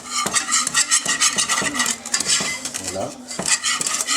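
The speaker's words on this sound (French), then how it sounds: "Vous prenez un fouet, vous mélangez bien" Whisk clinking against a pot while flour is stirred into melted butter for a roux, a quick irregular run of metallic taps and scrapes, close and fairly loud, with a brief spoken word.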